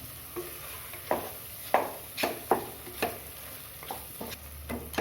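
Onion paste and ginger garlic paste fry in a pan for a spicy mutton gravy, with a low sizzle broken by repeated scraping strokes of a spoon against the pan.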